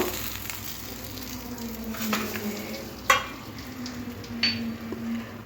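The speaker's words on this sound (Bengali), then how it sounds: "নুন আর হলুদ মাখিয়ে এই মাছটা আমি ভেজে নিলাম।" Steady sizzling of fish rubbed with salt and turmeric frying in hot oil, with a few sharp clinks of a utensil stirring or turning pieces.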